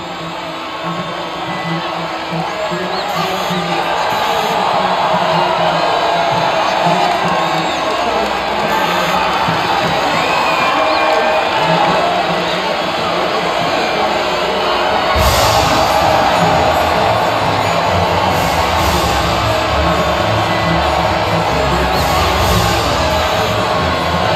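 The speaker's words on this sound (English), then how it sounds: "the reaction from the crowd must be incredibly uplifting for them" A large crowd cheers and whoops at the podium after a Monaco Grand Prix race in the F1 25 game, sustained roaring applause with shouts rising throughout, a broadcast commentator's voice partly over it.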